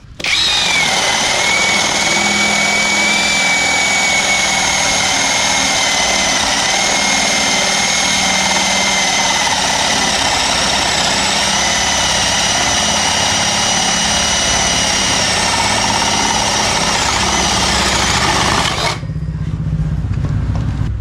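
A power drill whines loudly and steadily for about nineteen seconds while boring, its pitch sagging slightly under load before cutting off abruptly.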